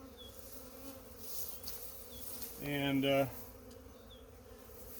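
Carniolan honeybees buzzing around a hive outdoors, a faint steady hum with a louder close pass of a single bee droning by, and a brief word of speech.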